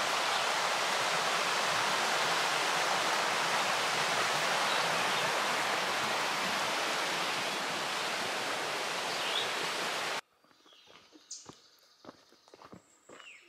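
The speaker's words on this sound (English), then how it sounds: "Down by Hemlock Creek, there's lots of water." Steady, dense rush of Hemlock Creek flowing along the Ice Age Trail fills most of the clip, then cuts off abruptly, leaving quiet scattered knocks and rustles.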